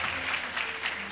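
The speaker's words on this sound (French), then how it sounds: "Des applaudissements pour lui." Audience at a university installation ceremony applauds, a continuous dense wash of clapping throughout the short moment.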